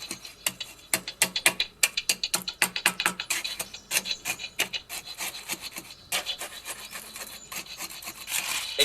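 Fresh concrete for a two-step staircase being tamped and pressed around iron rebar with a thin piece of wood, a fast series of close scraping, rubbing strokes in a steady rhythm with gritty texture throughout.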